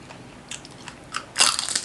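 Crispy Thai pork belly (moo krob) bitten close up, a few small crackles and then a loud, sharp crunch followed by continued crackling chewing.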